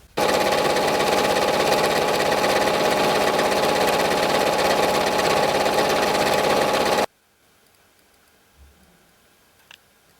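Continental M7 Professional domestic sewing machine stitching at speed, a loud, steady mechanical whir with fast ticking for about seven seconds, then it stops abruptly, leaving near silence with a faint click.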